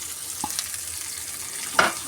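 Sliced onions sizzle in a pan as they are sautéed for a chicken curry, a steady low frying hiss broken by a couple of louder stirring scrapes, close and without talk.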